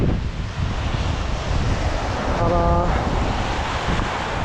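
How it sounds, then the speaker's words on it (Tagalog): Strong wind buffeting the microphone outdoors on a snowy day in Canada, a loud continuous roar with someone speaking briefly over it. "Mahangin na naman."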